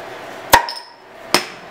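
A Coca-Cola bottle is forced open without an opener, giving two sharp, loud cracks about a second apart, the first followed by a brief ringing metallic tone.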